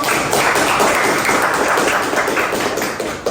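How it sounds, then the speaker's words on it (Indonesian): Students in a classroom clap together, a dense, steady patter of many hands sustained for a few seconds without pause. "Tepuk tangan dulu"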